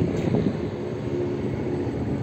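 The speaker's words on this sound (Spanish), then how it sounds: "Ha aterrizado un helicóptero ahí ahora mismo, ahí abajo." Helicopter engine and rotor drone heard as a steady, moderately loud rumble nearby in a hillside village during a wildfire, with wind noise and no talk.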